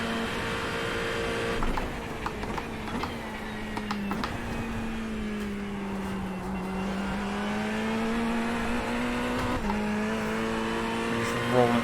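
In the iRacing sim, a GT race car's engine holds a loud, sustained high-rev drone around Le Mans, with pitch sagging and climbing through shifts and occasional clicks, and a voice talking over it.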